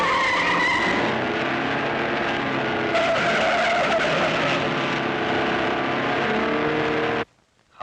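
A car in a 1947 comedy film screeches off with loud tire skidding and a rising engine roar, continuous and close for about seven seconds before cutting to near silence.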